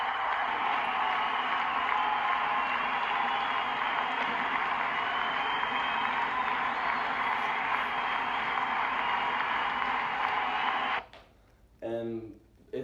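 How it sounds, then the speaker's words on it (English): Artificial crowd noise of the kind played in Major League ballparks forms a steady, even murmur of a large crowd, followed near the end by brief talking. "this is the sound that you would hear in Major League ballparks as their artificial fan noise."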